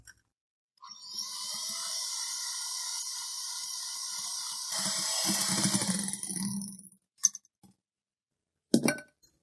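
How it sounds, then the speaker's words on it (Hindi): A sugar and oil mixture for an eggless fruit cake is beaten in a bowl, giving a steady, fairly loud high whirring for about six seconds, followed by a few sharp clinks against the bowl. "ऑयल डालने के बाद हमने इसको 2 मिनट मजीद बीट किया है।"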